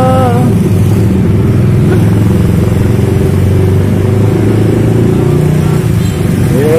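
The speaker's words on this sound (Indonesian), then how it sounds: "Banyak motor-motor, guys. Motor-motor yang berlalu lalang." Motorcycles passing by on a road, a loud continuous blend of mid-pitched engine drone and rising revs from several bikes moving through, with no talk.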